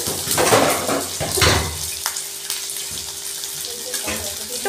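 Chopped onions hit a hot pan for Maggi noodles, a loud hiss and crackle of frying with a few utensil scrapes, settling into a steady sizzle.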